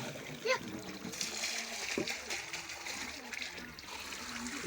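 Water drains out of a water filter during backwash: a faint, continuous rushing splash with slight sloshing, steady throughout with no clear breaks.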